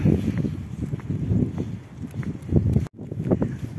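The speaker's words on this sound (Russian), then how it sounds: "Ну так, ветрено сегодня, конечно." Wind gusting outdoors in a residential courtyard beside a children's playground, a steady broadband rush with louder surges throughout and one brief dropout near the end, no voices present.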